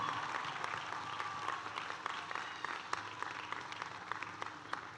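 A commencement crowd in a university stadium applauds parents and grandparents up in the stands, sustained distant clapping with sharp scattered claps over a broad wash.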